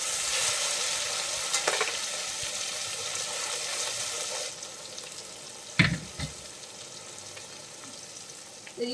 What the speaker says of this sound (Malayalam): നമുക്ക് ബാക്കി സോയയും കൂടി ഇതിനകത്തിട്ട് വറുത്തെടുക്കാം